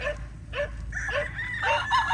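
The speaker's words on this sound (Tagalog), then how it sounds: "Maingay yung aso." A dog gives a series of short, moderately distant barks and yips, repeated irregularly over a low background hum.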